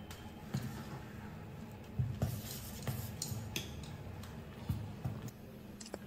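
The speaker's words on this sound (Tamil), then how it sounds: "இப்ப இத நல்லா கலந்து விட்டுக்கலாம்." A spoon stirs fermented ragi millet dosa batter in a vessel, making quiet, fairly regular clicks and soft scraping taps close by, with no talking.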